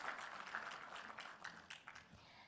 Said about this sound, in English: Please join me in applauding her as she takes the stage.